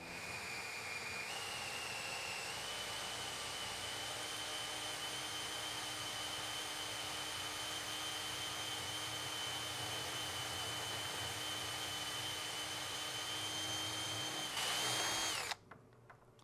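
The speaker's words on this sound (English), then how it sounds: "There, we reamed it out." A power tool whines steadily while reaming out a hole on an equipment trailer, a long high sustained tone with a brief pitch shift near the start and a louder surge before it cuts off.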